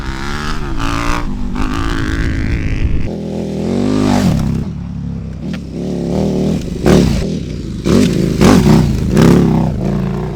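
A modified KTM Super Duke 1290 motorcycle with a cut frame, ridden off-road, roars loudly and close as it accelerates hard through rising gears, with brief throttle drops between pulls.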